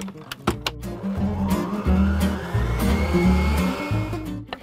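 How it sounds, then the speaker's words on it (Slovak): Electric mixer whirring loudly and briefly through gingerbread batter, a steady motor hum with knocking bursts at the start, no talk. "Opäť krátko zašľaháme."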